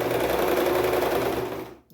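Home sewing machine stitching fabric in a beginner sewing exercise, a fast steady mechanical whir with rapid needle clatter, close and loud, running continuously for nearly two seconds before cutting off.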